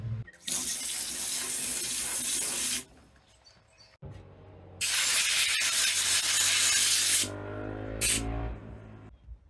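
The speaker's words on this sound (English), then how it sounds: "it's still a really unnerving sound to be coming from a can of explosive liquid." Suction hissing from a can of explosive liquid during maintenance on a Grumman LLV mail truck, two long steady rushing bursts, close and fairly loud, separated by a brief quieter gap, with no talking.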